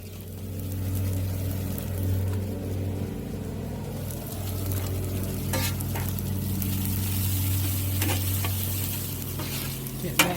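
Teriyaki sauce sizzles and spatters on a hot Blackstone griddle, a steady close frying hiss over a low engine-like hum, with a few scraping stirs and clinks along the way.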